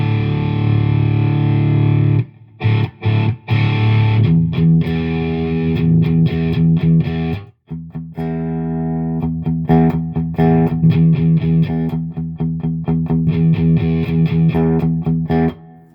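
Electric guitar played through a Dr. J Lancelot distortion pedal into an amp at fairly low volume, sustained distorted chords and riffs ringing loudly, with brief cutoffs as the amp is switched back and forth between its two channels.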